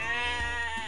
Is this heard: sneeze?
no